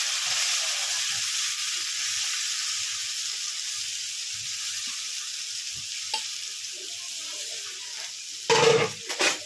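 Close, steady sizzle of a pan where boiled, ground pointed gourd paste fries with garlic and onion, with a stirring scrape and clatter near the end.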